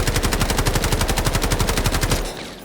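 Rifle firing on full auto in the shooter game Delta Force, a fast steady burst of loud close shots for over two seconds before cutting off.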